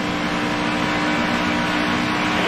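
Onboard engine of a NASCAR Xfinity race car at speed, a steady loud roaring drone with dense broadband noise and no clear shifts, continuous throughout.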